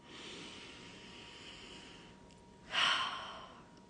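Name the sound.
deep breath in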